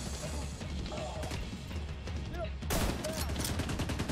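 Rapid video game gunfire crackles in dense bursts throughout, with a louder volley near the end, under a busy game soundscape.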